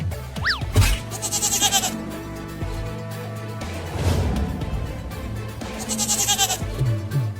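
A goat bleating in a cartoon chase scene, several drawn-out cries rising and falling, one sharp bleat early and another near the end over background music and effects.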